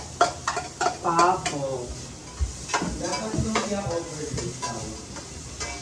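Onion and garlic sauté in a pan for lumpiang togue with a sizzling hiss, while a utensil scrapes and clatters against the metal. A voice speaks briefly and other talk breaks in now and then.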